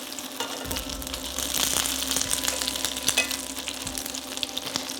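Vegetables sizzle and fry in a hot pan being sautéed to a golden caramelisation, a steady crackle with scattered pops and stirring clatter, close and moderately loud.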